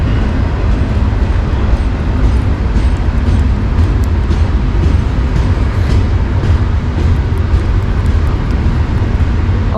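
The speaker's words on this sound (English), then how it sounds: "Oh, there is our train." A loud, steady low rumble of an approaching train near a railway line in Lakewood, Ohio, heavy and continuous throughout with no voices over it.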